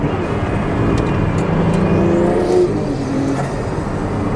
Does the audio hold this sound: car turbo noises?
yes